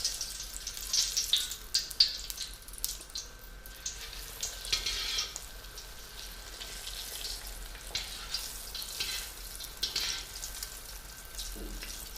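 Cheese bhaji frying in hot oil gives a soft, continuous bubbling sizzle with a few brief crackles, fairly quiet and steady, with nobody speaking.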